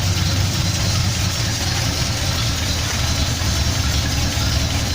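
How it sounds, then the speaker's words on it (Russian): A car engine with a homemade dual exhaust system idles in a garage, giving a steady, close, low rumble that holds even throughout with no talking. "услышать звук мотора с самодельной выхлопной системой на две стороны"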